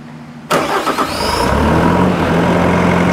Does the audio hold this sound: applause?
no